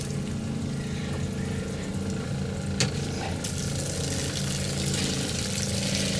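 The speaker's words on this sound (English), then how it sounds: "let's turn on the pump" An RV water pump drones steadily close by, a constant low mechanical hum with water rushing through pipes and a brief rattle partway through.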